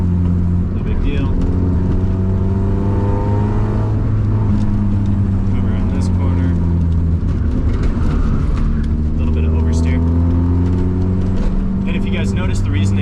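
A car in fourth gear braking into a corner with a heel-toe downshift, the engine droning loud and steady throughout with rising and falling pitch sweeps as the revs blip and drop.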